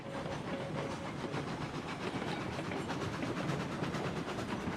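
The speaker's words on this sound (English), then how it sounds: "I'm gonna slow the train down." A freight train rolls downhill on rails in the Railroads Online video game, giving a continuous rumbling roll with a regular rhythmic clatter and a faint hiss, steady and unbroken.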